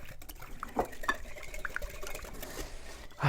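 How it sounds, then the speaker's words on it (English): Ingredients whisked together in a bowl, a soft rhythmic patter and light scraping at close range with a louder knock at the end. "Whisk to combine."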